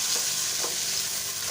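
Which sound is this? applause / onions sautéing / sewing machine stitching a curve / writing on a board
onions sautéing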